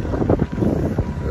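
Wind gusts buffet the microphone outdoors beside a transit station, a loud low rumbling roar that swells and drops in short bursts.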